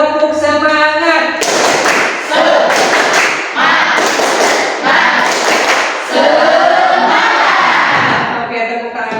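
A classroom of pupils does a rhythmic spirit clap, bursts of group clapping and thumping in a patterned beat, broken up by an adult voice speaking between rounds.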